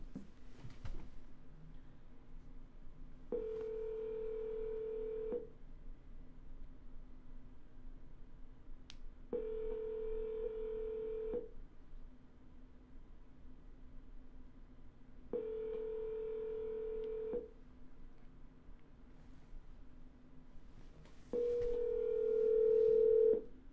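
Repeated steady telephone tones while double dialing a seller during cold calls, four sustained beeps of about two seconds each, spaced evenly with quiet gaps and a faint hum underneath.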